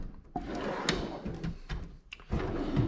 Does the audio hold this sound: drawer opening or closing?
yes